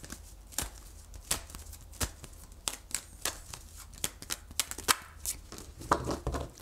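Tarot cards are shuffled by hand in a quiet room, giving a run of soft, crisp riffling snaps at an uneven rhythm, close and fairly faint.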